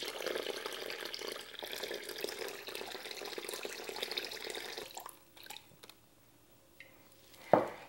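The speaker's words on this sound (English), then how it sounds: "The second one we're going to fill with water, actually 3 to 4 inches of water." Water pours from a tap into a plastic bag for weighing down sauerkraut, a steady splashing run for about five seconds, then sparse drips and squishes with a brief louder splash near the end.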